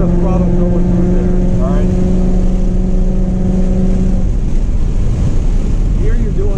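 A 2015 Mustang GT V8 drones loud and steady from inside the cabin on a track day, holding a sustained engine tone under heavy wind buffeting before the pitch eases off.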